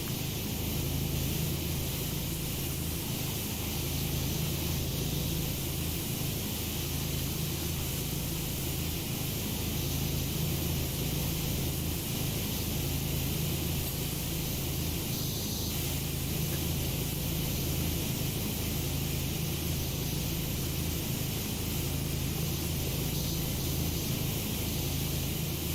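Steady hissing spray from a pressure washer in PowerWash Simulator while cleaning a Ferris wheel, a continuous even broadband rush with faint background hum, uninterrupted throughout.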